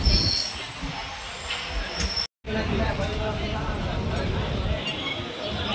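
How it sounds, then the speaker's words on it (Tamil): A MEMU commuter train pulls out of Perambur station in Chennai, its steady loud rumble and rattle heard from on board with a brief dropout, while passengers murmur in the background. "பெரம்பூர்லேருந்து கிளம்பிடுச்சுங்க."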